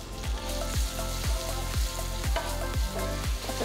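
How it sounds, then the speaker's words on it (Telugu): Chopped small sambar onions fry in hot oil with a continuous sizzle, punctuated by a steady series of about eight rhythmic knocks or stirring strokes, close and fairly loud, no voices. "సో ఈ తరిగిన చిన్న ఉల్లిపాయలని నెక్స్ట్ వేసుకుందాం."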